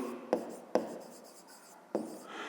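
Pen marks on notebook paper during a fifth-grade maths exercise, three distinct tapping strokes with short scratchy tails, close and fairly quiet, no talk.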